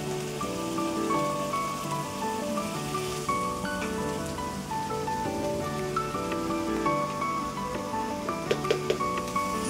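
Garlic paste, added after onion paste, frying in a pan for a festive Bengali meal, giving a steady, soft crackling sizzle like light rain that runs throughout, with a few sharper pops near the end.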